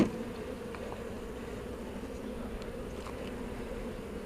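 Honeybees from a hive being split hum in a steady, continuous drone close by, with a few individual bees buzzing past the microphone now and then.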